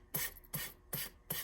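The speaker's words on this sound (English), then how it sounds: "you're going to sand like this" Sandpaper rasping in four short, even strokes across the paper napkin edges of a decoupaged Dollar Tree love sign, close and fairly quiet with brief pauses between passes.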